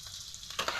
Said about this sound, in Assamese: পিঁয়াজখিনি মই এতিয়া ধুনীয়াকৈ ভাজি ল'ম।